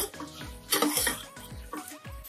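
Crushed ginger, garlic and chili being sautéed in a pan for a prawn pulao, with a rhythmic scraping and stirring clatter of a spoon against the metal over a soft sizzle, fairly close and steady.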